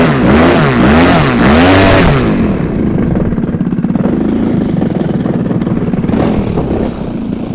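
A giant-scale 3D RC airplane motor loudly revving up and down in quick swells, then holding a steady buzzing drone close to the microphone, with no talking.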